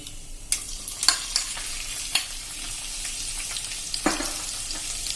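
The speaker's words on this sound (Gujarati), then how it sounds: "આપણું તેલ પણ ગરમ થઈ ગયું છે। એમાં 1 ટીસ્પૂન જેવું જીરું નાખશું, અને એક મીડિયમ સાઈઝનો મેં કાંદો ઝીણો સમારેલો છે એ નાખી દેશું" A teaspoon of cumin and a finely chopped medium onion hit hot oil for a papad curry, raising a steady close sizzle broken by sharp spatula clacks and scrapes against the pan, with no voices.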